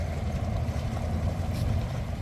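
A fishing trawler's engine drones in a loud, steady low rumble close by, unbroken throughout.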